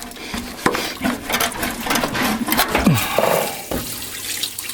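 Coolant drains from a radiator hose on a 1968 Ford F250 pickup, with splashing, gurgling liquid and a few knocks and clatters nearby, no talk.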